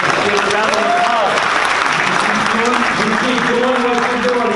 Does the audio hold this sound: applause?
yes